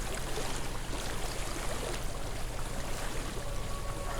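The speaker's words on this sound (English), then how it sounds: "Following the sounds of the water" A flowing stream in Hellblade: Senua's Sacrifice rushes steadily and close by, a continuous bright wash of running water with a few faint tonal hints, and no talking over it.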